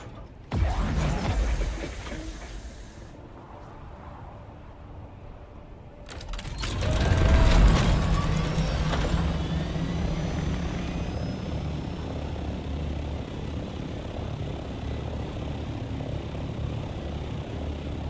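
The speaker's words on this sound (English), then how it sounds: "I'll just pack up my assault copter." An assault copter in the Dune Awakening video game is packed up, giving a sharp mechanical burst and then a loud whirring rotor-like roar that swells and settles into a steady drone.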